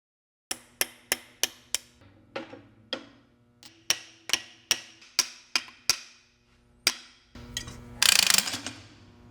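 A lathe tailstock gearbox is being taken apart, giving a run of sharp metallic clicks and clanks at an uneven rhythm, close and distinct. A brief burst of rattling scrape comes near the end.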